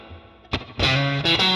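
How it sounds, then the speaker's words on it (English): Guitar played through a spring reverb on a 1953 Fender 5C3 Tweed amp model, a plucked note followed by a strummed chord ringing out with a splashy, washy tail, loud and alone. "Just a bit of spring reverb on its own"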